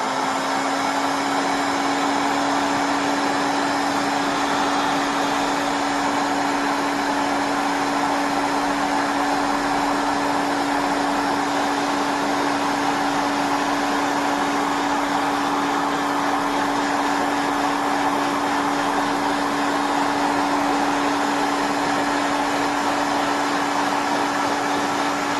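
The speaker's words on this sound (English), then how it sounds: "just going to shrink that down now with a heat shrink gun" Heat gun blowing hot air to shrink tubing on an XLR plug for a pure silver interconnect cable, a steady loud whoosh with a constant motor whine running unbroken throughout, alone with no talk.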